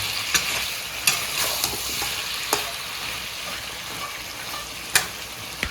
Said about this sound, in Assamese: এতিয়া আকৌ প্ৰায় তিনি চাৰি মিনিটমান ধুনীয়াকৈ ভাজিব লাগিব